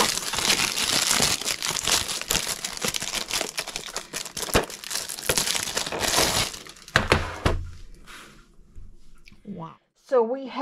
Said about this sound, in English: I think I will just take my scissors